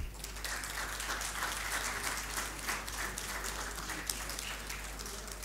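A student screening audience applauds steadily, a dense wash of clapping hands that holds at an even level throughout with no voices rising above it.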